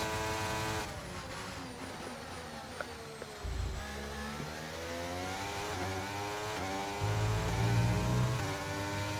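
An F1 race car engine screams at high revs in F1 23 on the Bahrain circuit, its loud, rising whine climbing through gear changes with low rumbling bursts, close and continuous with no talk.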